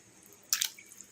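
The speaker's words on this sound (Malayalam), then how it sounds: "അതിനകത്തേക്ക് ഞാൻ ഈ മീറ്റ് ഇടുക കേട്ടോ" Pork meat dropped into lightly warm water for cleaning: one short wet plop and squish, close and fairly quiet, alone without talk.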